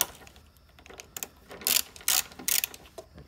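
A ratchet clicks in short bursts while loosening bolts on a Kia Stinger GT during a cold air intake install, close and fairly quiet, with several quick ratcheting runs late in the clip.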